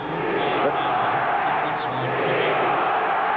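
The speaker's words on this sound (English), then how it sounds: "The crowd is chanting, "We want a ref,"" A hockey arena crowd roars in a sustained, unbroken wall of chanting and noise during the 1980 Buffalo at Vancouver playoff game 4, loud and steady throughout with no clear breaks.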